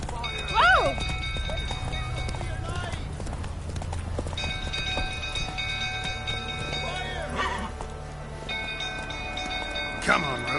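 Hooves of Roach, a horse in the Witcher 3 video game, clip-clop steadily throughout, with whinnies and game music, while a voice talks over it at times.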